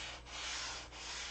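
A sanding block rubs steadily back and forth over a model aircraft canopy part in continuous broadband strokes, with two brief dips where the stroke reverses direction, close and alone.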